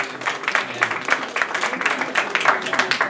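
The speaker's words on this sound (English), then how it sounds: "Let's give a big round of applause for Alec." Audience applause at a community meeting with a city official, a brisk, even patter of many hands clapping close by throughout, with faint voices mixed in.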